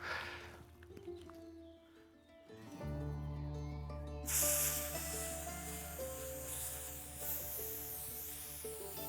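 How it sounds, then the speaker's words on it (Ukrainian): A small Teren 1 aerosol defence spray canister discharges in a continuous low-pressure hiss that runs for several seconds, faint and fairly steady, shifting and growing brighter partway through. "Найменший балончик терен 1 просто терен один."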